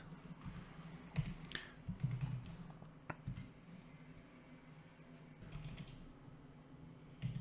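Keys clacking on a computer keyboard in irregular bursts of clicks with short pauses between them, close and fairly quiet.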